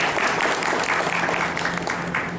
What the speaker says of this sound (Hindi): जरा ताली तो बजाइए अपने स्वागत को।